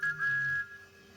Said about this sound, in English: He tooted his best friend's whistle.